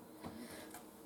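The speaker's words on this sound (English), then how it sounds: "Excuse me, sorry, I still have this stupid cough." A single short, sharp cough bursts out suddenly at the very end after a stretch of near quiet with faint background murmurs, close and fairly loud, from a person cooking sausage and cabbage in a skillet.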